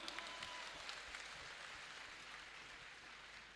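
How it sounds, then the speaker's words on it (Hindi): Faint, distant clapping from an audience at a religious gathering in Indore, soft and continuous throughout. "एक बार आपके लिए जोरदार तालियां"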